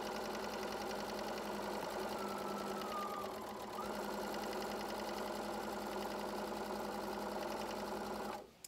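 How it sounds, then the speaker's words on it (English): A sewing machine stitches a seam in a 100% cotton gaiter, running steadily and close with a brief slowdown partway through before resuming, then stopping abruptly at the end. "I'm going to go ahead and sew up to it, and I'm going to do a little back stitch"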